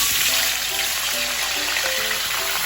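Potatoes and carrots frying in a pan, giving a steady, loud, hissing sizzle that continues without a break, heard up close with no voices.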